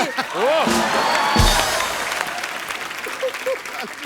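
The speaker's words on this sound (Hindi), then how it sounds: "ठोको ताली" Loud crowd applause with cheering fills the room, a dense wash of clapping with voices shouting over it, gradually easing.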